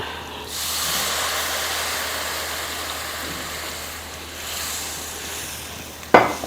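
Tamarind water pours steadily into a cooking pot with a hissing, splashing rush for several seconds, easing off, followed by a short clatter near the end.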